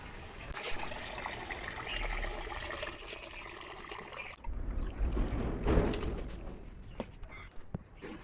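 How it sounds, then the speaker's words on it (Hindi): Water sprinkled by hand over garden plants and trees in daytime, a continuous splashing patter with a brief pause and then heavier, closer spattering and dribbles, no talking. "अब थोड़ा थोड़ा करके सभी पेड़ों के ऊपर पानी छिड़क देती हूँ"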